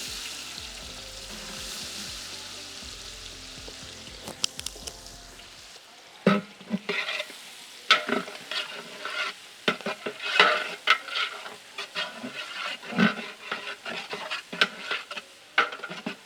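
Onion pieces frying in hot oil with masala spices for a goat leg paya curry, a steady broadband sizzle giving way to sharp clatter and scraping of stirring close by, with no talk.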